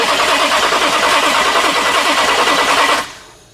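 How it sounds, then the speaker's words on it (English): A Pontiac Grand Prix engine cranks continuously for about three seconds, with the starter relay bypassed, then stops abruptly and fades. "we're gonna try to crank her by bypassing the starter relay"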